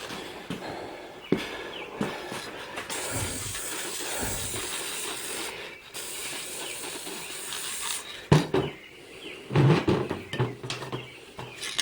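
Aerosol spray paint hisses in steady bursts over motorcycle ignition coils, a near continuous airy spray with short pauses and a few knocks and handling sounds toward the end.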